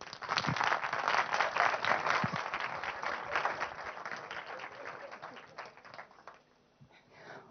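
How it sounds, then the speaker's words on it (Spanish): Audience applause at a film event presenting a motion-capture short film, steady dense clapping from a crowd that swells early, holds, then tapers off toward the end. "Un aplauso."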